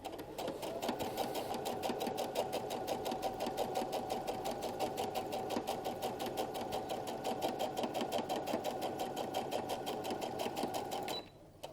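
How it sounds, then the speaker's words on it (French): A sewing machine stitching along the sides of table napkins runs in a fast, even, continuous chatter for about eleven seconds, loud and near, then stops abruptly. "Donc, on va continuer à coudre les côtés,"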